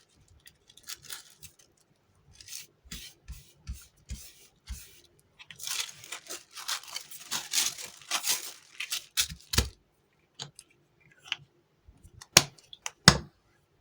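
Scissors trimming excess tissue paper on a Christmas cracker place card craft, a series of crisp snipping cuts with crinkling paper, irregular bursts that grow busier midway, then sparse sharp snips, close and fairly quiet, no talk.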